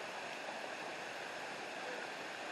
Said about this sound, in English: What about that waterfall?